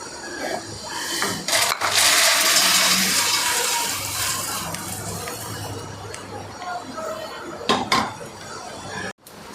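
Roasted puffed rice is emptied into a large metal vessel, making a long rattling, rustling pour with clinks of metal, then a few sharp knocks near the end, all close by.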